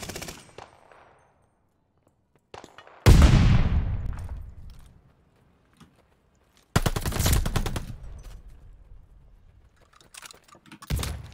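Gunfire in the shooter game Call of Duty: Vanguard, on the Gondola map: loud bursts of shots, each followed by a fading echo, separated by brief quiet gaps, then another sharp volley near the end.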